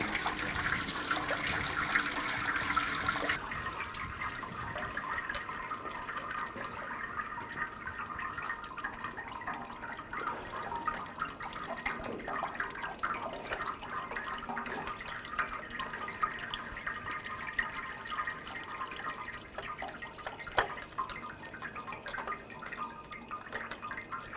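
Coolant from a Honda Pilot V6 engine trickles and drips steadily into a container for a long stretch, with a louder splashing rush at the start and faint workshop noise behind it.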